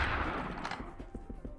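A shotgun blasting in Serious Sam: The First Encounter, several quick booming shots in a rough rhythm, the last few lighter and punchier, over dense game noise with no speech.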